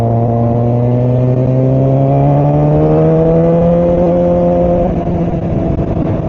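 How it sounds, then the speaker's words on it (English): A heavily modified Kawasaki ZX4R motorcycle engine revs loud and close, its pitch climbing steadily in a long sustained pull before easing slightly near the end. "I'm going to go buzz the local shops, because that's what you do when you've got a loud motorcycle"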